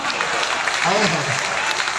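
Audience applause at a large poetry recital held at a school, a dense continuous clatter of many hands filling the space, with a voice briefly speaking over it.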